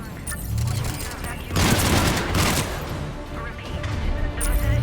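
Sustained turret gunfire in the Mass Effect Legendary Edition video game, a loud dense burst of rapid shots and booms layered with battle noise and a voice speaking over it.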